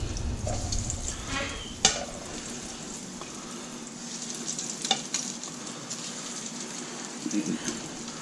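Breaded mushroom caps frying in hot oil give a steady, close sizzle with scattered louder pops and crackles throughout.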